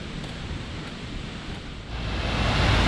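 A mountain waterfall near Lake Jasna in Slovenia, heard as a steady, dense rush of falling water that swells louder toward the end, with no voices.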